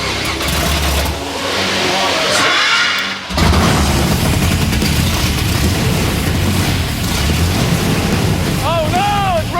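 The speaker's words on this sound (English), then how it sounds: "to hear that big block fire up" A big block car engine on a custom build cranks and catches, then roars steadily and loudly under excited voices and shouting, with a brief dip before the running engine settles into a constant heavy rumble.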